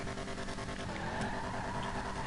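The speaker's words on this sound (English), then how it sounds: "Just listen to that engine." General Lee car in a video game, engine roaring at a steady close rev with a brief pitch dip and skidding tire squeal, building louder at the end.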